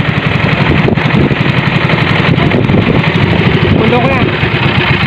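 Boat engine running while out fishing for shrimp, a loud, continuous rapid chugging drone that fills the whole stretch with a steady mechanical pulse.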